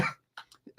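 A single short cough from a man still recovering from a lingering illness, close to the microphone, with a few faint breaths and small mouth sounds leading up to it.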